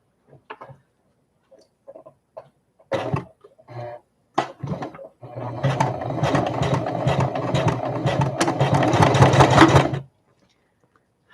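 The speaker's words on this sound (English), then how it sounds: "we want the sewing to be right at the edge" A sewing machine stitches a zippered bag together: a few short starts and stops, then a continuous close, loud whirring run for several seconds before it cuts off abruptly.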